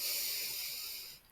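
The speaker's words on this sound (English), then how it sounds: "Breathing in" A single airy, hissing breath drawn in during a yoga bridge pose, close and steady before tapering off.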